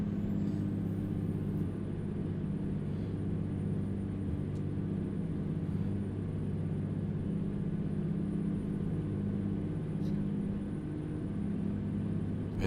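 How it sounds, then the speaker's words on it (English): A heavy truck engine with its Jake brake engaged in American Truck Simulator, a steady loud low rumble that holds evenly throughout with no voices. "Man, that Jake brake is mean."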